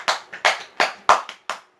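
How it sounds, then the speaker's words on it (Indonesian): Hands clap in a classroom as a student is applauded: about six sharp, separate claps in a loose, uneven rhythm, close and fairly loud, with silence between them. "tepuk tangan untuk Putut telah membacakan hasil diskusi."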